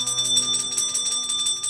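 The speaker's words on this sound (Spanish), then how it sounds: "La campanilla tocaba con más ímpetu que antes." A small bell rings insistently, its bright tone sustained with rapid repeated strikes at moderate loudness, alone without voices.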